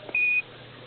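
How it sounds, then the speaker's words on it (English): A single steady electronic beep from the Apollo 11 lunar module's 1202 program alarm during the Moon landing, high-pitched and clear, lasting about a quarter second over faint radio-like hiss. "Give us a reading on the 1202 program alarm."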